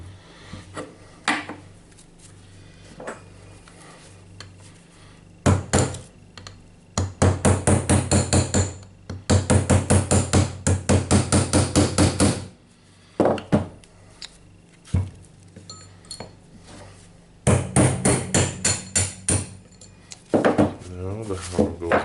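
Metal hammering on the hammer piston of a Hilti TE76 rotary hammer drill during disassembly comes in bursts of rapid, sharp, ringing strikes, separated by pauses with quieter handling noises and occasional talk.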